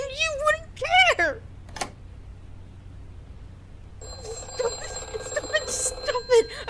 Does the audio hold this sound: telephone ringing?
yes